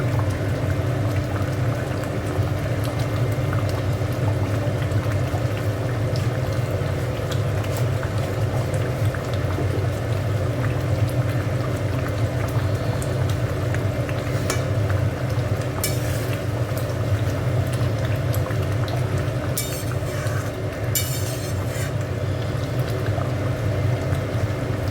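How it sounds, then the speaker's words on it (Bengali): Katla fish tail curry simmering in a pan with ghee, a steady close bubbling and soft sizzle that runs on evenly, with a few brief clinks near the end. "আর একটু ফুটবে।"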